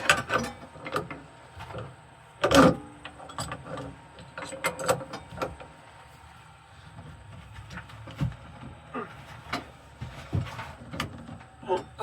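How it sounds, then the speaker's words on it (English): A small pipe wrench working loose a stuck piece while a little bowl is being made, with irregular metallic clicks, ratcheting knocks and one sharper clank close by. No talking. "I'm gonna try small pipe wrench"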